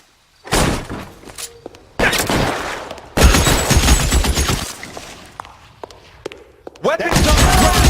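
Gunfire in the video game L.A. Noire, with sharp bursts of shots and rapid volleys that start and stop abruptly, loud and close, and voices shouting between them.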